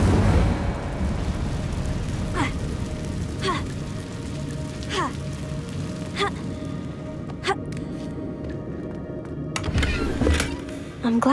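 Incendio fire spells cast repeatedly in Hogwarts Legacy, a series of sharp whooshing bursts at steady intervals over a constant rumbling ambient bed, fairly loud and close.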